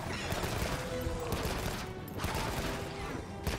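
Light bowgun fire in the video game Monster Hunter Wilds, a dense, steady stream of rapid gunshots with layered game effects and background sound throughout, with no clear pauses.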